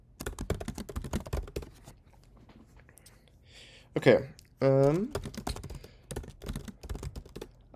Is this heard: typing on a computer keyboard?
yes